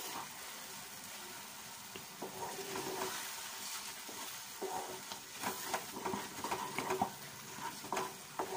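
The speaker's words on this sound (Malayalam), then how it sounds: "നിർത്താതെ ഇളക്കിക്കൊണ്ടിരിക്കണം." Halwa being stirred in a pan over heat, with steady scraping and soft sizzling strokes, close up and fairly quiet, no talking.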